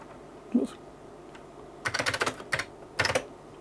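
Bursts of typing on the keyboard of a 1980s luggable computer, a Compaq SLT 386s or IBM P70, sounding as rapid clusters of close key clicks with short pauses between groups.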